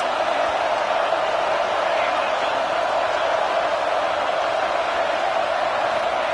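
A packed football stadium crowd roars for its defense during a game against Michigan, a constant, loud wash of massed voices with no individual words standing out.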